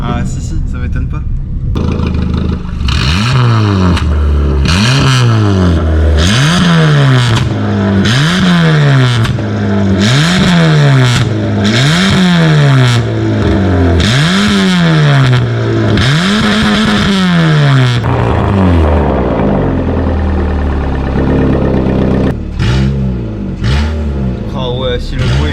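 A Peugeot 206 engine, converted to V6, revs repeatedly in loud rising sweeps, climbing and dropping in a steady rhythm before settling into a rough idle.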